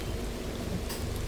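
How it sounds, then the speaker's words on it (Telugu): Heavy rain pours steadily during a road trip toward temples near Mahabaleshwar and Bhimashankar, a dense, even hiss of drops with no voices. "వర్షం అయితే ఇప్పుడు ఎక్కువ అయిపోయింది మొత్తం"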